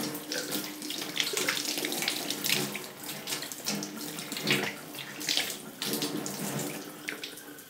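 Tap water runs steadily into a sink, a continuous broadband splashing rush with small surges, close and fairly loud, with no voices.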